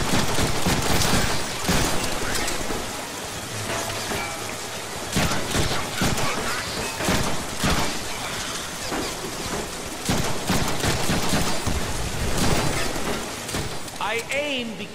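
Rapid bursts of gunfire from the Deadpool video game crack and rattle in dense, irregular volleys, loud and close, with someone talking over the shooting.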